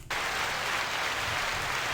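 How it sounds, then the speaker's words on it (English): A short burst of clapping starts sharply and holds steady, dense and close, with no talking over it. "Little clap in there like that."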